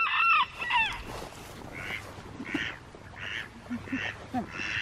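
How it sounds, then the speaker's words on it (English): Ducks quacking repeatedly at close range, with several overlapping honking calls in an irregular rhythm over faint background noise. "Did you hear the duck?"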